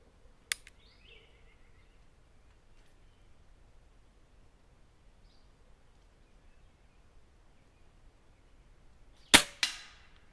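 A Weihrauch HW30s .22 air rifle fires twice: one sharp crack early on, then a long quiet stretch before a second, louder crack with a brief echoing tail near the end.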